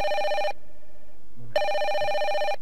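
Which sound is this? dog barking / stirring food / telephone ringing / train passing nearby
telephone ringing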